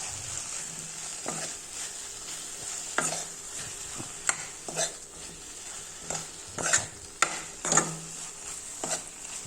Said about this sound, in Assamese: এতিয়া ইয়াতে মই হালধি দি দিছোঁ, আকৌ লৰাই দিছোঁ।